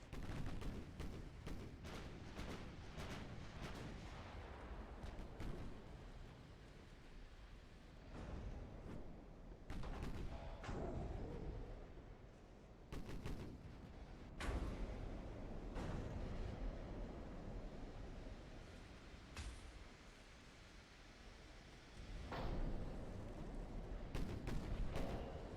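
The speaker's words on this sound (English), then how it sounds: "We do have a couple of ships firing on them." Naval guns fire from warships in a battle in Ultimate Admiral: Dreadnoughts, a rapid series of heavy booming blasts and rumbling salvos that overlap through the whole stretch, steady and dense with no voices over them.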